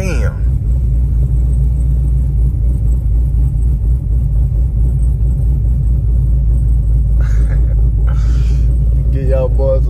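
Cammed Chevrolet Camaro SS 1LE engine idling with a loud, deep, lopey rumble that stays steady throughout, while someone talks briefly over it.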